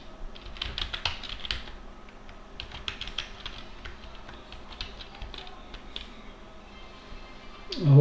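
Someone types a password on a computer keyboard, with a fast run of close, crisp key clicks that thins out into scattered taps, ending in a louder bump.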